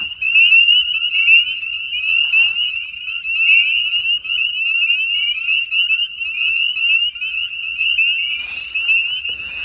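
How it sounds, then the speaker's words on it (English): At night from a dock, a loud, continuous chorus of frogs trills and croaks in a high, rapid pulse, close by and unbroken. "let's go see these frogs. Let's get out on the dock here. God, they're so loud."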